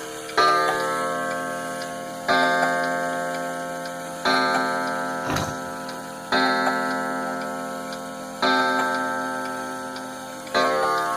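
A mechanical clock gives regular, resonant metallic strokes about every two seconds, each ringing out and fading before the next, close and clear in a quiet room.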